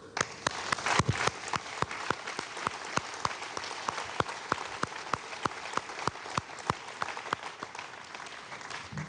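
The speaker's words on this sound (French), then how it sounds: "Je vous demanderai de l'applaudir parce qu'ils l'ont bien mérité" Audience applause following a rocket launch broadcast for an Arianespace ATV-2 mission, with a steady crowd clapping throughout, sharp individual claps standing out near the front over a dense background patter.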